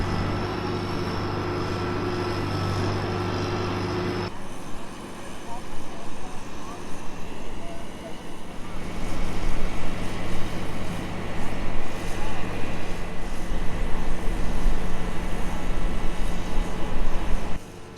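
Several antique steam whistles blow together at a steam engine association grounds as a carousel building is moved, a loud sustained shrill blast up front that then gives way to a rougher, fluctuating roar over continuous background noise.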